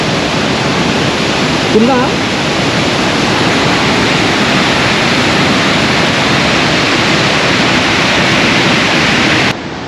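Water rushing through the Gandikota reservoir dam makes a loud, steady broadband roar that fills the whole stretch without pause, with a brief voice heard near the start.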